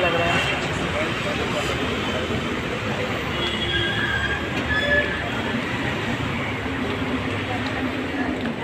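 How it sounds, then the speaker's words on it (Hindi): A train stands at Mumbai's Chhatrapati Shivaji Maharaj Terminus at night, with a dense wash of station noise, rumble and faint metallic squeals and clanks, busy and continuous. "ये है CST स्टेशन सुशान, ये मुंबई स्टेशन, मुंबई छत्रपति शिवाजी महाराज टर्मिनस। अभी लगी है ट्रेन"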